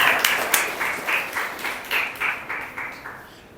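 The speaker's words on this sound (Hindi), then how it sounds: "ताली बजा के प्रभु को धन्यवाद" A church congregation claps to thank the Lord, loud rhythmic unison claps at a steady beat of about three per second, with no voices over them.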